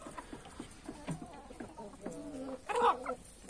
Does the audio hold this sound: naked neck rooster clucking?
yes